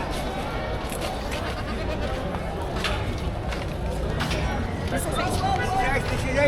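Goats bleat amid a noisy crowd of chattering people at a livestock auction in Padre Garcia, Batangas, with animal cries rising above the babble.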